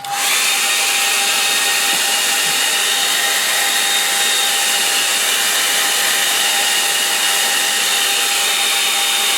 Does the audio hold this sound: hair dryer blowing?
yes